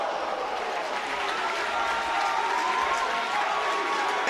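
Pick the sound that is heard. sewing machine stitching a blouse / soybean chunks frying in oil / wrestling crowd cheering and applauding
wrestling crowd cheering and applauding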